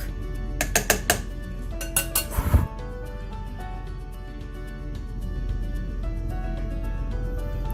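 A pot of spicy pork and beef meatball curry gets shaken, giving a few quick metallic clinks and rattles early on, then a low steady simmer with no one talking.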